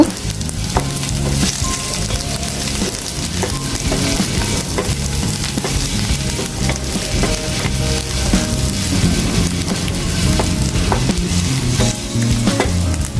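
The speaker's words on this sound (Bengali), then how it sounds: "দিয়ে দিচ্ছি দু টেবিল চামচ পরিমাণ রসুন কুচি মিনিটের মতো ভেজে নেব" About two tablespoons of chopped garlic fry in oil for chicken kala bhuna, giving a loud, continuous close-up sizzle with crackles and stirring throughout.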